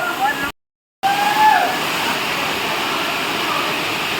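Ermayi waterfall rushes in a steady, loud, broadband roar from close by, with a short dropout near the start.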